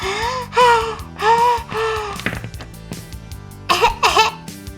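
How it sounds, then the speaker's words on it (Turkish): A few harsh coughs and a throaty, moaning cry, fairly close, with short pauses between bursts. "Öksürsün."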